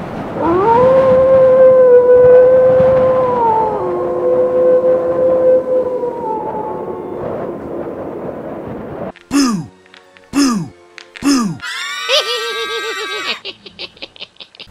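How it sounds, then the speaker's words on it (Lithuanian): A long, drawn-out howl rises and wavers for several seconds, then gives way to a few sharp yelps and a final wailing cry, loud and close. "iš vienatvės kaukia per pilnatį"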